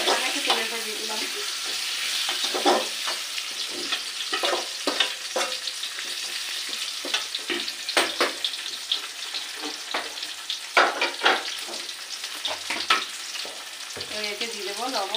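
Spices frying in hot oil while being stirred, a steady crackling sizzle broken by frequent scraping and clinking strokes of the stirring utensil, close and continuous with no talk.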